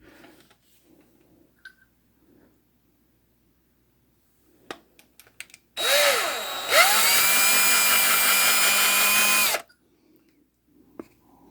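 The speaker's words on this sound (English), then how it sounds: "And just make a mark with the drill bit that we're going to use." A power drill spins up for a few seconds to mark a center point on plastic laid over wood, whining loud and close between stretches of near silence and small handling clicks.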